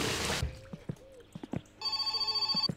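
A telephone in the game My Summer Car starts ringing after a spray of water and a few footsteps and thuds, sounding as a rapid bright bell trill that repeats close and loud.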